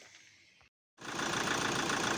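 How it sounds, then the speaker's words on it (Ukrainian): An Opel Zafira engine quiets, goes silent for a moment, then starts and settles into a loud, steady idle after EGR valve, MAP sensor and throttle cleaning. "Ну, все, ставимо акумулятор, заводимо машину."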